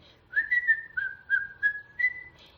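Someone whistles a short melody nearby, a handful of clear, bright notes rising and gliding over a quiet background.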